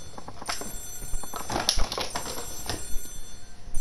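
A telephone bell rings in the Yakuza 0 video game, a rapid trilling ring repeated a few times over busy game ambience at moderate loudness, with no talk.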